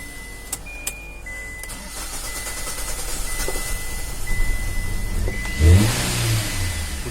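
A Hyundai Xcent with a long-crank, misfiring engine: a steady engine drone with faint ticking and beeps, swelling into a heavier rough surge near the end, close and loud.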